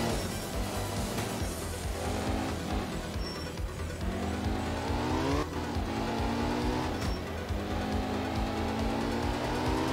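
Rally car engine labouring up a climb in the racing game Art of Rally, a loud continuous drone with rising and falling pitch sweeps as gears shift, steady throughout with no talking.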